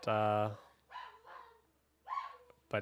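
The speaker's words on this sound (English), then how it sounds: "the dog is freaking out" A pet dog barks excitedly at home as someone arrives, a few sharp bursts spaced through the moment, with a person's voice talking over and between them nearby.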